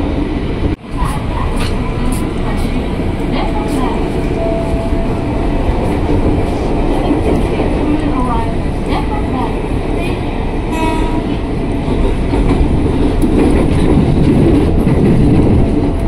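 A KRL commuter train in the Jakarta area rumbles steadily on its rails near Depok Baru station, a loud continuous clatter with occasional squeals and clicks, while someone speaks over it.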